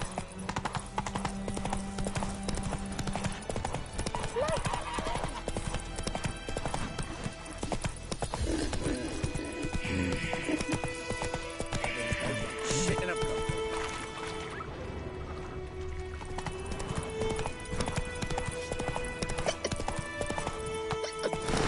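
A horse galloping in The Witcher 3, with fast continuous hoofbeats, an occasional whinny, game music underneath and a voice speaking over the hooves.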